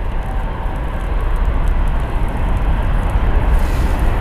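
Lufthansa airliner passing at Frankfurt Airport, a steady loud roar of jet engines that swells slightly and holds throughout, broad and rumbling with no talk over it.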